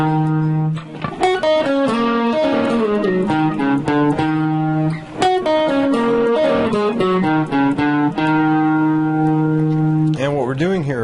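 Electric guitar plays a signature lick: a busy run of bright picked notes and bends over a ringing low drone, steady and close for the whole stretch with no talking.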